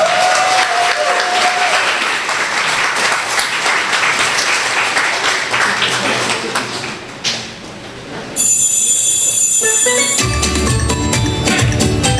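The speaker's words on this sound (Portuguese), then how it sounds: "Aplauso para Vanessa." Audience applause for a prize winner at a holiday prize ceremony, a steady dense clatter for several seconds that dips and then gives way to a brief burst of music.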